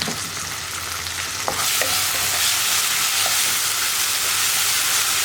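Masala with curry leaves and tomato sauce is stirred in a hot pan, a steady loud sizzle with faint scraping touches of the spoon running throughout, close by.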